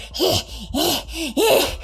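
A human voice imitates exhausted panting under the breath: three rough, breathy gasps in a steady rhythm, close and fairly loud, with no other sound around them.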